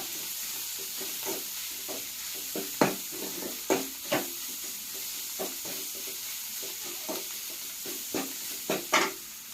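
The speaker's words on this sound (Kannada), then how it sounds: "ಈಗ ಒಟ್ಟು ಚಲೋ ತೆಗಿ ಈ ನಾವು ಫ್ರೈ ಮಾಡ್ಕೋಬೇಕು" Cumin, spinach and green chilies frying in a pan, a steady close sizzle with irregular scraping stir strokes throughout.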